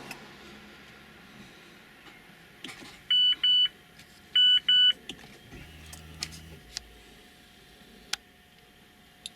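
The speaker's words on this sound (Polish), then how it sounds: "I nawet piknęło." Two quick pairs of high electronic beeps from a car dashboard over a low engine hum, with a few faint clicks around them.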